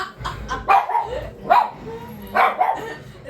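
A pet dog barks and yips close by in several short, uneven bursts, with whimpering tones between them.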